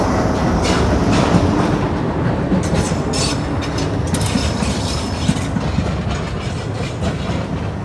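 Train engine approaching on the tracks, a loud, continuous rumble with rhythmic clickety-clack of wheels and metallic rattles, close and sustained without talk.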